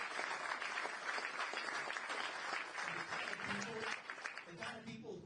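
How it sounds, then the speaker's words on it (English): Audience applause rings out for Steve King at a presidential campaign event, a steady burst of clapping and cheering that holds for several seconds and then begins to thin as a voice comes in near the end. "You guys want to give Steve King a round of applause?"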